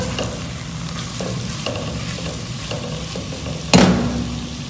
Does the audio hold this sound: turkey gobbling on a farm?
no